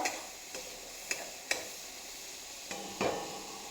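Garlic and ginger paste frying in a pan for a whole masoor dal dish, a steady soft sizzle broken by a few sharp clicks of a spoon stirring against the pan.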